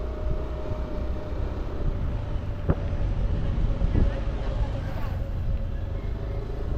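Steady wind buffeting and a low engine rumble from a Yamaha Aerox 155 scooter ridden along an island road on Boracay, continuous and fairly loud, with a couple of brief knocks.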